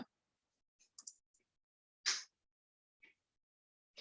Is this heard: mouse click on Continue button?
yes